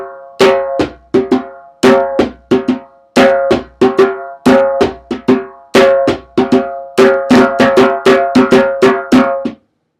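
A djembe hand drum plays a rhythm slowly: loud, resonant strikes fall in steady repeating groups of about four for nearly ten seconds before stopping abruptly, with nothing else audible.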